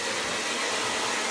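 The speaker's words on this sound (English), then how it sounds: "And notice I'm blowing the hair up" A hair dryer blows steadily at close range while hair is being blow-dried, a constant airy whoosh with no talking.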